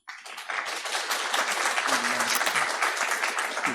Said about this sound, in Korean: 우리 나오실 때 큰 박수로 환영해 주시기 바랍니다